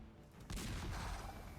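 A single booming cannon shot fires partway through a Darkest Dungeon video game battle, a sudden loud blast that rings out and decays over a low rumble after a quiet start.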